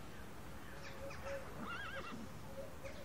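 A horse neighs and whinnies in a few rising, wavering calls, with hoof clip-clops and stable background noise around it; faint voices are present.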